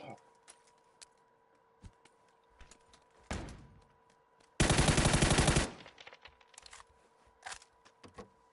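Bursts of automatic gunfire from another player in the battle royale game PUBG, with scattered single shots, a loud sustained burst in the middle and softer bursts around it, over a steady game hum.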